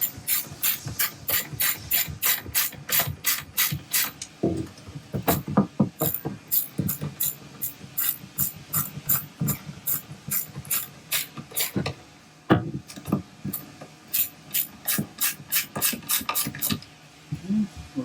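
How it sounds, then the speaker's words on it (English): A small ratchet wrench snugs down rear seat-delete bolts in a 2023 Chevy Colorado/GMC Canyon, giving close, loud bursts of rapid clicking that stop and restart several times. "Now we can take this, our little wrench here."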